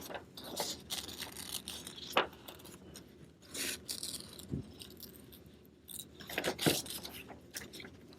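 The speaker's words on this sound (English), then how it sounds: "take your scissors and cut out circles as big as you want them to be" Scissors snip through construction paper in short, irregular crisp cuts with quiet rustling between them, close and fairly faint.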